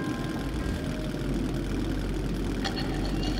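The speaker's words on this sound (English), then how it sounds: "Stop the engine! Do not move!" Railcar engine idling in Metro 2033 Redux, a steady low diesel-like rumble holding evenly throughout with a faint clatter near the end, no voices.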